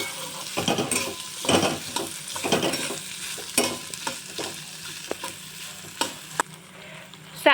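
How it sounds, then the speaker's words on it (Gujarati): Vegetables and raw potatoes for upma being stirred in a pan, a spoon scraping in repeated strokes over a low sizzle, with a few sharp clinks of utensil against the pan near the end. "હવે હું સ્વાદ પ્રમાણે મીઠું એડ કરી દઈશ આ બધું ચડી જાય એટલે હવે આપણે બધું મિક્સ કરી દઈશું"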